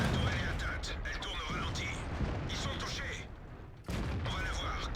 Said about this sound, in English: So I shoot through the wall, the first one just grazes the 50B, next one goes right in